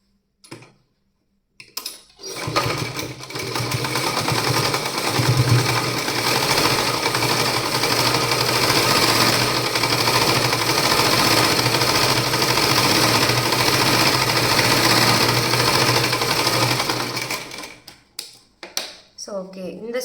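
Sewing machine stitching a cloth bag, a loud continuous rapid mechanical whir running for about fifteen seconds after a few short starts, then stopping with brief handling noises.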